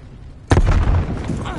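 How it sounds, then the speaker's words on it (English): A grenade blast in Call of Duty: Black Ops Cold War multiplayer goes off as one sudden, loud boom after a quiet moment, then rumbles and fades over about a second. "Throwing grenade!"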